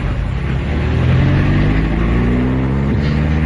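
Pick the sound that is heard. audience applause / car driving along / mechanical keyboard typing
car driving along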